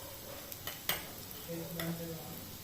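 Vadi curry being stirred in a pan with turmeric added, giving faint scraping and clicking touches of the spoon at irregular moments over a low background hiss.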